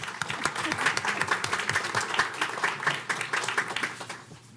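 Applause from an audience at a county board of education meeting, a steady patter of many hands clapping through most of the stretch before tapering off near the end.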